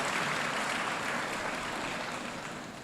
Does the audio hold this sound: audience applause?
yes